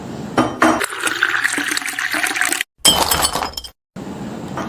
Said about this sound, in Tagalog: natapon sa mesa ang tubig kaysa masalinan ko ang baso